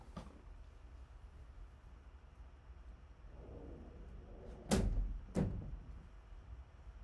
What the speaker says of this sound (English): I'm just gonna go close my door.